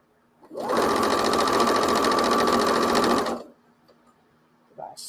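A sewing machine runs in one steady burst of rapid stitching for about three seconds, close and loud, then stops. A brief voice follows in the quiet at the end.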